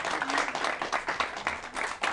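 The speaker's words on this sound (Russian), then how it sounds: "Ну, давайте аплодисментами." Applause from an audience at a memorial evening, a short burst of close clapping at steady loudness from start to finish with a faint voice beneath.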